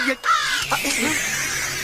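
A crow cawing, a couple of harsh calls mixed with voices and other sound in a Tamil comedy scene.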